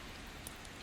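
Soft, steady rain falls throughout as a faint, even hiss with a few scattered droplet ticks, calm and continuous with no voices.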